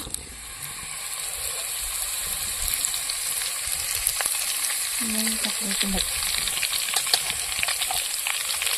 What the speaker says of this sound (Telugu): నూనె బాగా కాగిన తర్వాత కరివేపాకు అయితే వేసుకుందాం ఇప్పుడు కరేపాకు వేసుకుందాం